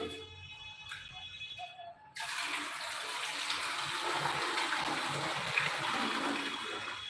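Water gushes steadily into a bucket, starting abruptly after a couple of seconds of quieter background and then running as a continuous close splashing rush to the end.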